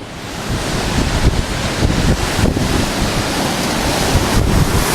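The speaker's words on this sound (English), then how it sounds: "It's a bit windy today guys" Strong wind buffets the microphone at a beach, with a roaring gusty rush blending into the wash of surf, loud and continuous throughout.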